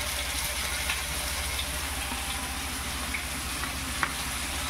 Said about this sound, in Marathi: रवा आणि पीठ लावून ठेवलंय, ते असं तेलात सोडायचं